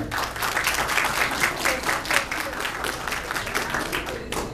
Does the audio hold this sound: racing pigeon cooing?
no